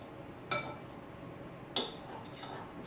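Blackberry crisp topping being mixed in a baking dish over berries: two distinct clinks of a utensil against the dish, each followed by soft scraping, fairly close and quiet with no talking.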